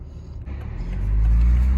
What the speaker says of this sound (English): I can hear a very nice exhaust note, and I can hear the turbos spool up as well